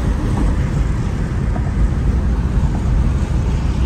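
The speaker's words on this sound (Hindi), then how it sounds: "अभी बारिश स्टार्ट हो गई है बिल्कुल यहां पर।" Rain is starting while driving toward Abbottabad, Pakistan, heard as a dense, loud wash of rain and road noise inside a moving vehicle, steady throughout with no talking.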